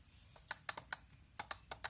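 Keys clacking on an early-2000s HP Pavilion ZE4420 laptop keyboard, a quick run of about ten distinct close taps in a quiet room.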